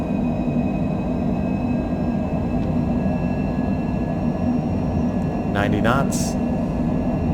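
Steady broad rumble of a Cessna Citation Longitude business jet's engines during its takeoff roll at Providence airport, continuous and loud under cockpit talk and a brief chime near the end.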